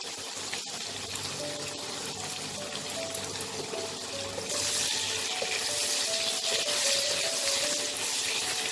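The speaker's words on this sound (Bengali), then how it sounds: "এবারে আমি এই আলুটা যখন হাফ ভাজা ভাজা হয়েছে আমি এই পেঁয়াজ কুচিটা দিয়ে দেবো" Chopped onion tipped into half-fried potatoes in a pan for a fish-head cabbage dish, with a steady sizzle that swells louder and brighter midway as the onion hits the hot oil, heard close with no talk.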